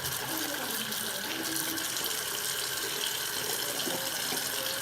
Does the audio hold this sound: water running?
yes